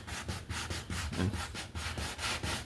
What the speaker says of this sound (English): I'll sand on our guide coat a little bit